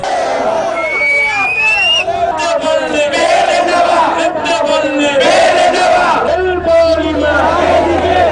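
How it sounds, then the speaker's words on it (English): A large protest crowd at Galle Face roars and shouts demands for the government's resignation, a loud, continuous mass of chanting voices with rising bellows throughout. "Large crowds gathered at Golface today demanding the resignation of the government, including the President and Prime Minister."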